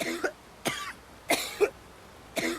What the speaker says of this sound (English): I started getting this bad cough.